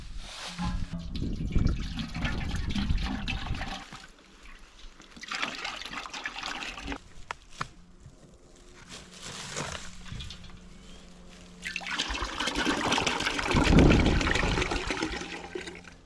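Birch sap is poured from jugs into one big container outdoors, a gurgling, splashing liquid flow in several uneven pours, loudest near the end.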